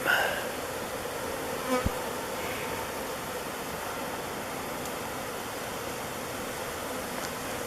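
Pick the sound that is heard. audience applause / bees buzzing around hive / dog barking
bees buzzing around hive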